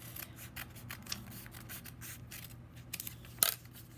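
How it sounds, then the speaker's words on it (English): Scissors snip through paper for a kindergarten graduation craft in a quick series of crisp, close cuts, with short scraping rustles between them and one sharper, louder snip near the end. No talking. "I'm gonna cut this off."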